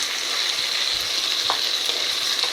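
Blended tomato sizzles hard with capsicums and paneer in a hot wok, a steady close frying hiss with occasional stirring scrapes and no voices.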